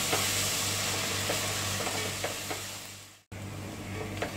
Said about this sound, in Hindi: ये हाई फ्लेम पे मैं अदरक लहसुन पेस्ट भी भून रही हूँ।